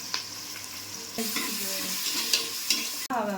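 Onions and spices with coriander, mint and rock salt sautéing in a pan for mushroom biryani: a continuous close sizzle that swells after a second, with repeated spatula scrapes and a brief knock near the end.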